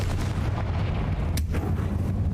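A loud spell explosion in the video game Hogwarts Legacy, a heavy booming blast with rumbling debris filling the whole stretch, close and sustained.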